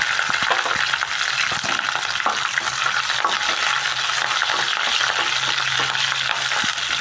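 Curry leaves, green chillies and garlic fry in hot oil, giving a steady close crackling sizzle with the occasional scrape of a stirring spoon, no voices.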